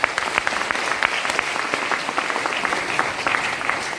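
Audience applause at a motivational mindset seminar, a crowd clapping vigorously and continuously, with individual sharp claps popping out of the dense, even patter.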